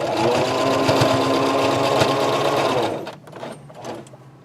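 Sewing machine stitching a fabric top, running loud and steady for about three seconds before stopping, followed by a few softer handling noises.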